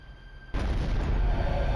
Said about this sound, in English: the sound of an explosion sent him rushing to the window